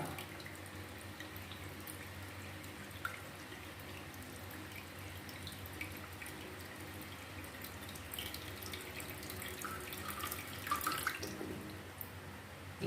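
A toilet cistern with a faulty float valve and limescale buildup refills with water, a steady close rushing and hissing flow that runs continuously and swells slightly near the end, with no voices.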